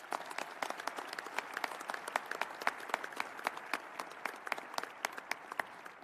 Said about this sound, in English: let's give the Castillo family a round of applause